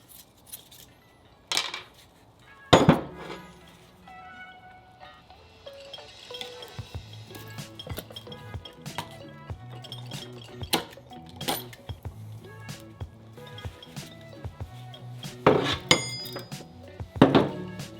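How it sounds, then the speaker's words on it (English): Work on removing an axle boot from the rear axle of a Subaru STI, with scattered metallic clinks, snips and tool knocks, close and irregular, with louder sharp hits near the start and end. "I'm going to move on to removing this other boot"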